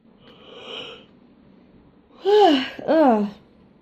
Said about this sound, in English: Oh, I'm yawning.